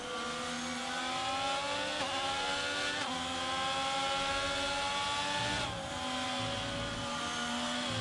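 Formula-style race cars in a racing video game at the Hungary circuit give off a loud, continuous high engine whine. It climbs in pitch through upshifts with brief dips, and the cars are close with no talk over them.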